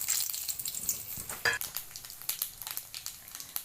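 Whole spices (bay leaf, cloves, pepper and cinnamon) sizzle in hot oil for mutton biryani, a close, crackling fry with quick popping bursts throughout.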